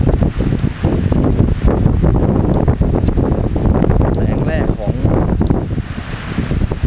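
Loud, gusty wind buffets the microphone in a constant roar on the summit of Phu Ruea, Loei province, Thailand, with a voice speaking briefly underneath.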